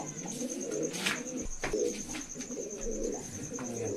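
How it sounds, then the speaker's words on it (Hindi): Malwai pigeons coo in soft, repeated low murmurs, close and continuous, with a steady high whine running underneath throughout. "तो ये देखो भाई बहुत ही प्यारे कबूतर भाई के पास"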